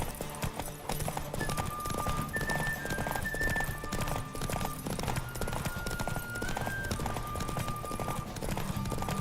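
Rapid rhythmic hoofbeats of a galloping horse in The Witcher 3 video game over a busy, music-like electronic background, steady and loud throughout.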